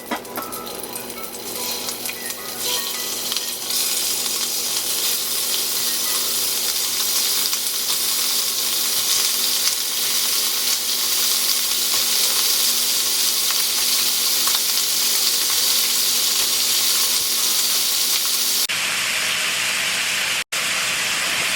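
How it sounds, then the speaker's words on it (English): Filet mignon steak searing in butter in a hot pan, a loud steady sizzle and hiss that runs unbroken before dropping away near the end. "now I'm going to add the steak to the butter in a single layer"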